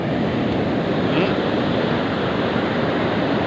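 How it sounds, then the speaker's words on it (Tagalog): Big waves driven by Typhoon Pepito pound the shore in a continuous loud rush of surf and wind, close and unbroken, with no pause between breakers. "Grabe, lalaki ng alon. Dahil sa typhoon Pipito."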